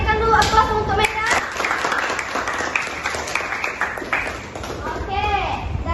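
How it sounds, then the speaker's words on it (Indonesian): A classroom of students applauds their classmates during a micro-teaching session, steady clapping from a group that builds after a moment and carries on for several seconds, with voices talking over it. "Berikan dulu aplaus untuk mereka."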